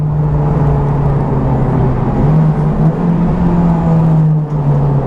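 A car rolls gently around a track lap at low speed after a brake-pad bedding procedure, giving a loud, steady engine drone and tyre rumble with a constant low hum and no talking.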